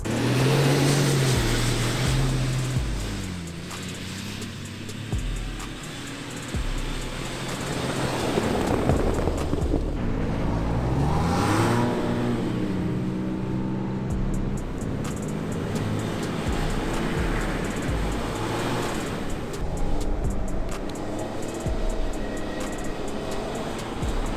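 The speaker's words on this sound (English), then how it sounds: "Check out these acceleration whoops that we're creating." A 2022 Ford Bronco accelerates hard over off-road whoops: a loud engine roar rises and falls in pitch through repeated surges, with rumbling and rattling from the rough terrain throughout.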